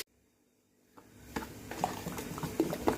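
Tempering stirred into a chutney of roasted chana dal, with soft wet stirring and light bubbling clicks that start after a near-silent second and continue close and fairly faint, with no talk.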